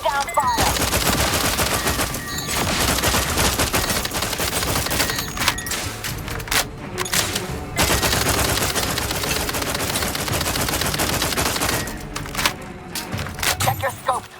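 Heavy gunfire in The Outer Worlds 2, nearly continuous automatic volleys and sharp cracks filling the scene, with a few brief lulls and voices mixed in.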